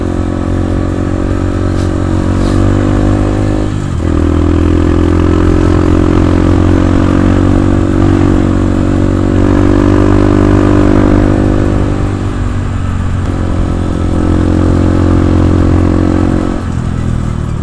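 A Honda CRF 150L motorcycle engine drones loudly and steadily on a test ride after one year of use, with a couple of brief dips where the revs drop before it pulls again.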